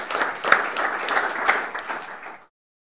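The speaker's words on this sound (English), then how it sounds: "Could you start with a round of applause for all of the speakers so far?" A short burst of applause from a conference audience for the speakers, steady clapping that swells briefly and then stops abruptly.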